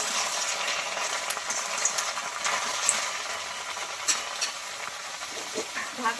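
A spatula scrapes and turns salted tomatoes with beetroot in a hot pan, making a steady soft sizzle with repeated clicks and scrapes close by and no talking.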